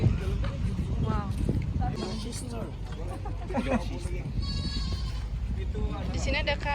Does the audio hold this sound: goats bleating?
yes